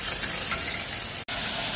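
Onions fry in oil in a pan for a chicken and chana dal curry, giving a close, steady sizzle that cuts out for a split second before resuming.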